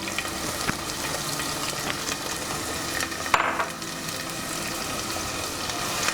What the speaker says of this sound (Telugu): లైట్ గోల్డెన్ బ్రౌన్ వచ్చే వరకు మనం ఈ ఉల్లిపాయలను వేపుకోవాలి.